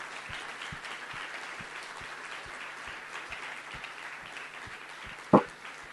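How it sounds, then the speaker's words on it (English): Audience applause after a conference keynote presentation: steady, moderately loud clapping from a crowd, continuous for several seconds with one sharp nearby clap near the end. "Let's give him another round of applause."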